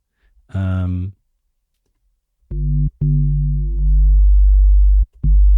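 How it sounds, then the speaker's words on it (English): An FM synth tone for a house bass remake, shaped by a steep modulation envelope so each note starts bright with high harmonics and settles into a pure sine-like tone; several sustained notes follow an earlier brighter burst. "you just have the high frequencies in the beginning and it ends with the sine wave"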